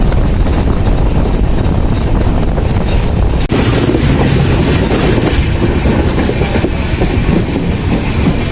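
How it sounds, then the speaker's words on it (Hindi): Passenger train hauled by a WAP7 electric locomotive at full power on the way to Katra, a loud, continuous rumble of wheels and carriages heard from on board, with rhythmic clatter and a brief jolt partway through. "WMP7 पूरी ताकत से ट्रेन को आगे बढ़ाता हुआ।"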